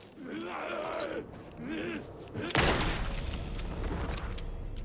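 A single loud gunshot rings out in Alan Wake 2 after a creature's guttural groans, and its heavy, echoing tail lingers for a couple of seconds.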